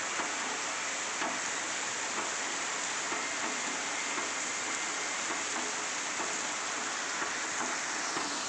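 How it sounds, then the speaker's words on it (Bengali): Heavy rain pours steadily outdoors near a garden rose plant, a dense continuous hiss of drops at even loudness throughout with no voices. "প্রচণ্ড জোরে বৃষ্টি হচ্ছে বন্ধুরা।"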